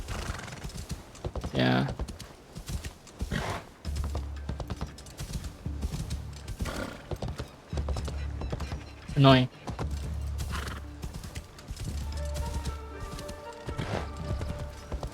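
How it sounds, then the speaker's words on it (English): Horse hooves clip-clopping at a steady pace in a video game set in Kyoto, rhythmic thuds beneath game ambience, a brief whinny, and a person talking briefly over it. "A reason I'm riding a horse is because I don't want to hear Naoe start panting"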